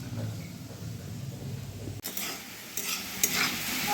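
Potatoes fry in a pan as a spatula scrapes and stirs them. A soft, steady sizzle at first gives way to louder stirring strokes and clatter in the second half.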